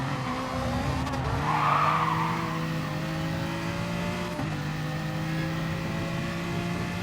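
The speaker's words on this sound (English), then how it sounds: "These are just GT3 cars at the end of the day, but still going really quick at the end of these long straights" GT3 race cars in a racing video game at Bathurst hold a steady, loud engine drone at speed down a long straight, with a brief burst of tyre noise. No one speaks.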